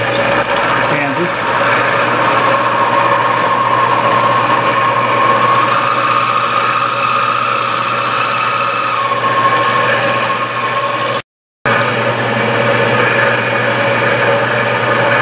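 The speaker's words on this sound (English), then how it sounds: "using this mystery four flute high speed steel end mill" A four-flute high speed steel end mill cuts a radius on a 7/8 inch workpiece. The machine gives a steady, loud mechanical whir with faint tonal whine, continuous and close, with a brief dropout near the end.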